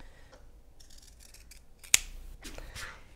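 Scissors cut a V into folded fabric selvage strips, close up, with faint rustling before one sharp snip and a softer second cut just after.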